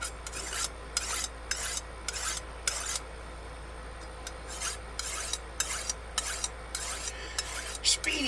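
A knife blade is drawn repeatedly across a sharpener outdoors, giving about a dozen crisp rasping strokes in a steady rhythm, close and clear over a low background hum, with no talk.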